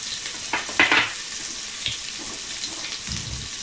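Onions dropped into hot oil in a pan for a mackerel fish curry, a brief loud hiss and crackle at first, then a steady low sizzle with faint stirring scrapes, close and with no talk.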